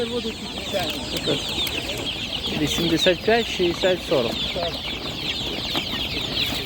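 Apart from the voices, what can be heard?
small chicks at an animal market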